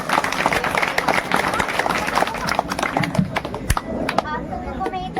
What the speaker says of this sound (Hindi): कुमारी निशा के लिए जोरदार तालियां बजाएं।